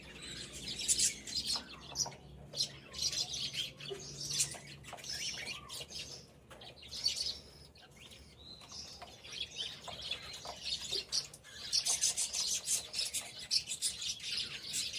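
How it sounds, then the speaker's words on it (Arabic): Pigeon squabs in a nest on a farm give thin, repeated high chirps and peeps in irregular bursts, close and moderately loud over faint background rustling. "العش دوت فيه زغاليل"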